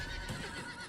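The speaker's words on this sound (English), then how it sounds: "Forgot how to board my horse." A horse in Diablo IV gives a brief, close whinny over a bed of game ambience, one short neigh filling most of the moment.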